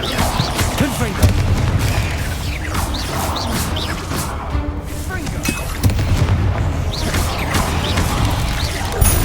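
Confringo spell blasts in Hogwarts Legacy combat land as repeated loud booms and crashes amid whooshes and mechanical clatter, with voices talking over the fight.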